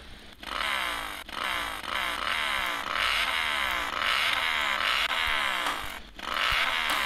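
A Yamaha MT-07 700 cc motorcycle engine in the mobile game Moto Acelerador 3 revs repeatedly, rising and falling in rapid rasping pulls, loud and close, with brief cuts between throttle blips.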